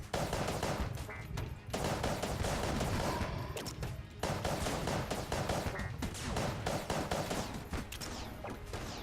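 Dense, continuous rapid gunfire and explosive blasts from the Cannon Balrog boss fight in the video game Enter the Gungeon, loud and sustained with brief dips.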